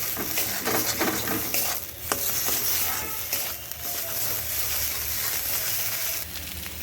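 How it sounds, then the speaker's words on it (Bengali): A spoon stirs and scrapes a mashed gourd-leaf mixture with sugar in a frying pan, making continuous sizzling with repeated clinks and scrapes of metal on the pan. "একটুখানি চিনি দিয়ে ভালো করে একটু নাড়াচাড়া করে এর সঙ্গে মিশিয়ে নিচ্ছি"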